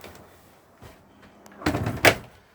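Door of a Bailey Unicorn Cadiz caravan opening, a few faint soft knocks followed by a louder rattling thunk and sweep as the door swings, close and alone.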